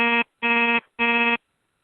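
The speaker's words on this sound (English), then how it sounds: "I guess that was the buzzer" An electronic buzzer sounds three loud, harsh tonal bursts, each about a third of a second long with short gaps between, then silence.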